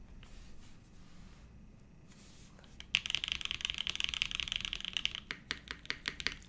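Keys on a Ripple TKL mechanical keyboard clatter in a quick, dense burst of close clicks after a few quiet seconds, then slow into scattered separate taps.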